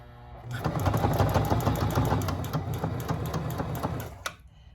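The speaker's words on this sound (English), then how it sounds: "so this is a new way to sew together. So I've sewn the bias tape on to the plastic." Sewing machine stitching bias tape onto plastic, a steady close rapid mechanical chatter running for about four seconds before stopping abruptly.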